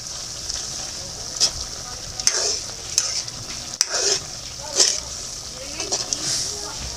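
Squid sautéing in a frying pan with a little salt, giving a steady close hiss of frying broken by sharp clicks and scrapes of a utensil stirring every second or so.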